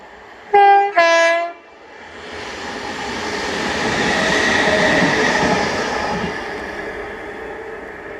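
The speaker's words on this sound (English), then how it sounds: "2J77, the 1159 ScotRail service Glasgow Queen Street from Edinburgh with 385118." A ScotRail Class 385 electric unit on an Edinburgh to Glasgow Queen Street service sounds two short horn blasts, then rumbles past close by in a broad swelling roar of wheels that slowly fades.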